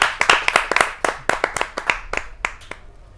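An audience at a Hindi poetry gathering applauds to welcome poet Praveen Arya, with a few close, sharp hand claps that thin out and fade after about three seconds.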